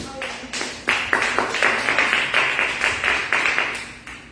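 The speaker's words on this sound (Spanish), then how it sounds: "Vamos a darle un fuerte aplauso a Dios." Congregation at a Spanish-language church service clapping together in a steady rhythmic beat, about two claps per second, fairly close and strong, with no talk over it.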